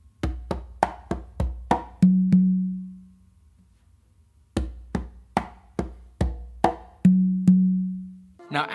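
A round of the first Songo variation on two congas: a quick burst of sharp hand strikes ending in a ringing open tone, a pause of near silence, then the same phrase repeated.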